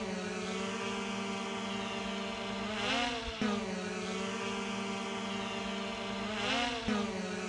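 A DJI Mini 3 Pro drone hovers under load in a lifting test, its propellers giving a steady, close whining buzz that dips and surges twice as the motors strain.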